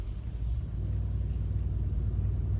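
Mercedes C63 AMG pulling away, a low rumbling engine drone heard from inside the car that builds slightly and holds steady, with no talking.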